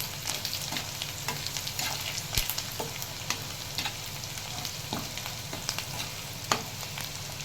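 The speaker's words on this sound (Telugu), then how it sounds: "ఆవాలు జీలకర్ర వేసి లైట్గా ఫ్రై చేసుకోవాలి" Mustard seeds and cumin frying lightly in hot oil for a chicken pickle, a continuous crackling sizzle with faint scattered pops and small stirring clicks, fairly quiet and close.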